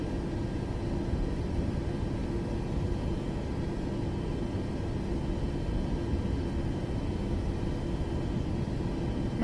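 Boeing 737 MAX 8 taxiing in Microsoft Flight Simulator 2024, a steady low jet engine rumble with a constant broadband hiss, unchanging and close throughout.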